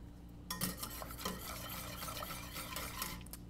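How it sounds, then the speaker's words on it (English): A whisk stirs heated milk in a pot in a steady, continuous swishing and scraping, close and fairly quiet, with no voices. "stir it up a little bit"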